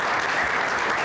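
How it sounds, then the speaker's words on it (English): A brief burst of steady audience applause for students at a gubernatorial candidate forum, dense even clapping from a crowd heard alone. "Let's give the students another round of applause"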